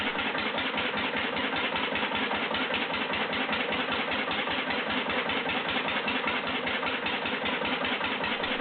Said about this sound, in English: slow-speed diesel engine built in Dursley, England around the 1950s